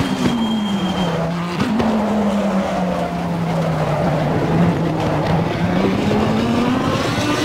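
A race car in the Assetto Corsa Competizione sim racing game brakes from high speed at the end of a long straight, its steady engine tone dropping and wavering with tire noise while a voice speaks faintly beneath.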